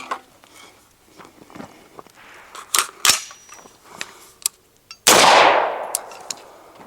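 An Exigent Defense Fireteam 5.56 rifle fires on its unsuppressed setting: scattered sharp clicks and handling knocks come first, then one loud, close blast bursts out and fades in a long rumbling decay.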